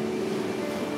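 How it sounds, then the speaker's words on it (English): Waves wash onto a sandy Sea of Japan beach, a steady, broad rush of surf that stays close and fills the whole moment, with no voices. "touch the waves"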